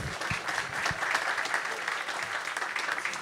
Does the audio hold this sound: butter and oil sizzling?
no